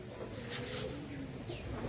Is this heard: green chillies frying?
no